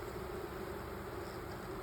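Honey bees buzzing steadily around an open hive during an inspection, a continuous close drone with a faint hum of many wings and no speech.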